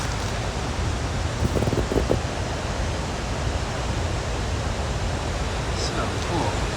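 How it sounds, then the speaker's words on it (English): The overflowing Marble Fork of the Kaweah River, swollen with Sierra spring runoff, gives a loud, constant broadband rush of water close by, unbroken through the whole stretch. "We got an overflowing Sierra River next to us."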